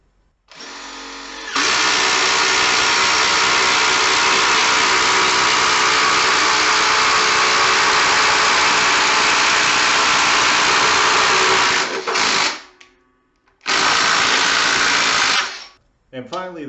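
Ridgid subcompact drill driver spinning under load at close range, likely boring through wood: a steady, loud motor whine for about ten seconds, then a pause and a second shorter run. Brief speech may be present.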